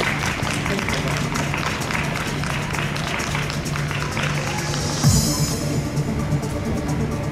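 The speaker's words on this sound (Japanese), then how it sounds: "改めまして拍手お願いします。" An audience at a Caucasus dance show on a shopping-mall stage in Japan claps steadily under a sustained musical drone, with a brief louder swell near the end.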